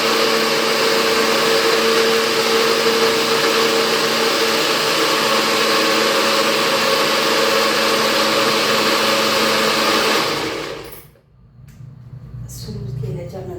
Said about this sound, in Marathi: सुरू केल्याच्या नंतर हा मिक्सरचा ज्यूस त्याच्यातून निघत असतो